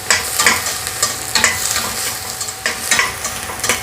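Something frying with added salt in a pan, a close, continuous sizzle broken by repeated stirring scrapes and bursts at a loose, uneven rhythm, with no voices over it.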